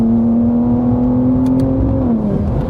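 A BMW G87 M2 Clubsport engine holding a steady loud drone with a subtle intake note, then easing off slightly near the end, heard from inside the car.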